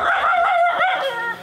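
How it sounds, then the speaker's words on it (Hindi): Dogs bark and yip close by, a loud, tonal run of barks with a whimpering edge that fills the whole moment, with no one talking. "दिन रात यहाँ कुत्ते भौंक रहे हैं"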